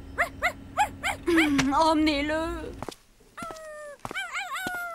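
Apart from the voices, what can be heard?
dog barking in a cartoon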